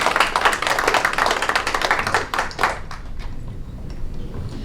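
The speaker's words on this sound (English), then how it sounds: "I would like to ask if we can give him another round of applause" A seminar audience claps steadily for a couple of seconds, then the applause thins out and fades into quieter room noise.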